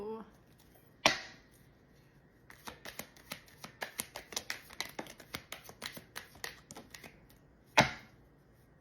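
Tarot cards shuffled by hand make a quick run of papery flaps and clicks for several seconds, bracketed by two sharp louder snaps, fairly soft and close.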